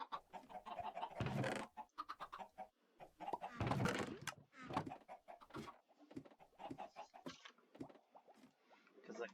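Chickens in the Minecraft video game cluck in short, irregular bursts, some louder and nearer than others, scattered through the passage with gaps between calls.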